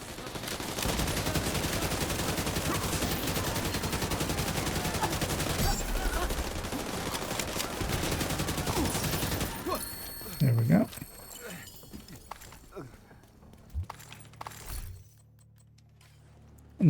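Rapid bursts of video game gunfire fill a dense, loud mix with continuous talk over it, then the shooting cuts off and quieter scattered clicks and thumps remain.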